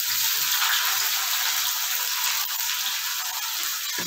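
Onions fry in a pan at a home stove, giving a steady, close hiss of sizzling oil with a soft bubbling texture that holds evenly throughout, with no talking.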